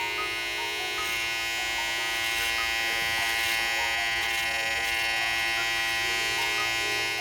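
Electric hair clippers buzz steadily and close up throughout a self-cut fade, a continuous high-pitched hum with no talking.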